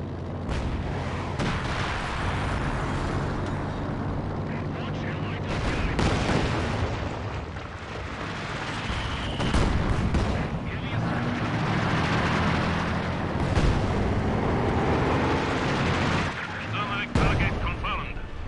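A fire-support artillery barrage in Company of Heroes 2, with repeated heavy booming blasts and sharp cracks over a continuous rumbling din, while game voices speak over the battle.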